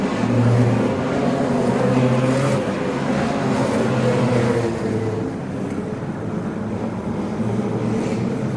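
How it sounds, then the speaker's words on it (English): Wingless sprint cars racing at Laang Speedway, a steady, loud engine roar with a sustained drone as the pack passes, no voices heard. "Excellent drive here from Chris Hurd"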